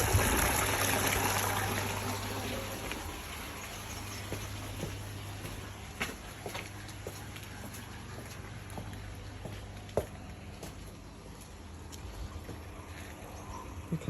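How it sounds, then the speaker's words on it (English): Water trickling through a rock filter system at a fish farm, a soft steady flow with faint drips and splashes, quiet and continuous with a low hum underneath. "We use the rocks to filter the water."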